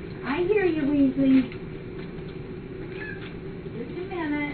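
A cat meowing and purring indoors, a drawn-out meow followed by quieter rumbling purr and another short meow at the end, close and fairly loud.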